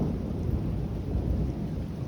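Thunder from a severe thunderstorm cell rolls as a low, continuous rumble, with rain hissing steadily beneath it throughout.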